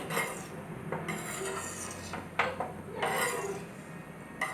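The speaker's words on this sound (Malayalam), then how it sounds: "നന്നായിട്ട് ഇളക്കി കൊടുക്കണം" A spoon scraping and stirring coconut milk around a hot pan, a steady close rasping and rubbing with a few sharper scrapes and knocks against the metal, no voices over it.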